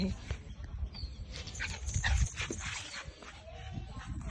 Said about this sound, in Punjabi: ਬਹੁਤ ਸੋਹਣਾ ਹੈ ਡੌਗੀ ਸਾਡਾ ਦੇਖੋ ਐਨ ਖੇਲਣ ਨੂੰ ਆਉਂਦਾ ਹੈ